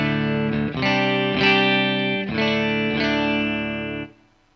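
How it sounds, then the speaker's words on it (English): A clean electric guitar with a Bassman-style tone, recorded direct, plays a few sustained chords with a touch of room reverb, each ringing out before the last fades away. "Fairly clean bassman style sound with just a touch of room reverb because we're going direct here."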